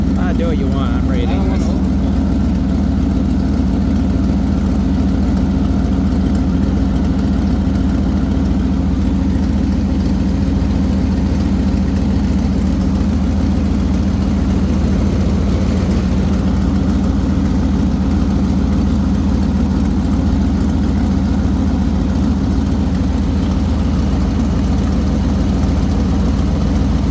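A 1997 Ford truck engine idles steadily, a loud, constant low rumble close by that runs unbroken throughout, with people talking over it now and then.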